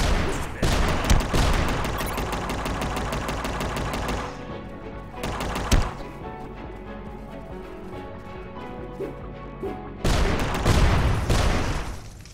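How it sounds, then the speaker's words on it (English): Rapid bursts of machine gun fire in the UnMetal video game, loud and dense at the start, then a quieter stretch with a single sharp shot before another heavy burst near the end, with game music underneath. "You destroyed my machine gun!"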